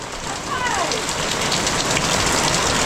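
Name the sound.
heavy rain by the sea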